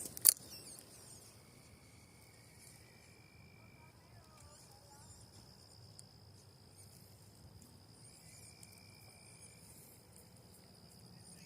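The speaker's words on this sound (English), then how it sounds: "I like all the sounds that are going on right now, like the crickets and stuff" Crickets chirp faintly in a steady high-pitched drone across a quiet night backdrop at a creek, with a soft click at the start.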